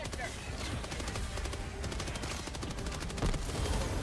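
Rapid automatic gunfire from the Helldivers 2 video game rattles continuously amid dense, loud battle noise, the shots packed into quick repeating bursts close at hand.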